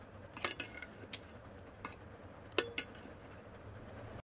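Metal utensils scrape and clink against a pan as rice is mixed, giving a handful of light, sharp taps over a faint steady background with no talking.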